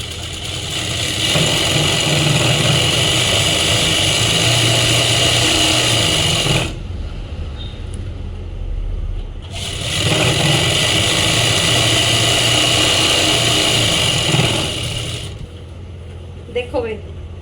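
A sewing machine stitching a salwar runs in two long, steady motor-driven whirring bursts with a short pause between them. The sound is close and fairly loud, and someone talks alongside it.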